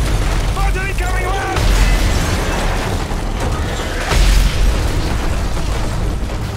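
Mortar shells burst in Call of Duty: Modern Warfare 3's Sierra Leone level, two loud deep booms a few seconds apart within constant gunfire and combat noise, soldiers shouting over them.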